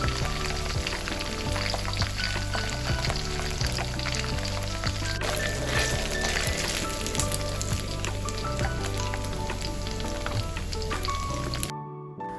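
Chicken pieces deep-frying in hot oil for chilli chicken fried rice, a steady dense sizzle and crackle running without a break, close and fairly loud, then cutting off abruptly near the end.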